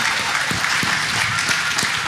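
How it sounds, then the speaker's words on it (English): A crowd at a live rugby club event in Bannockburn claps and cheers, a loud, dense wash of applause with sharp clap bursts close by. "Please don't stop cheering."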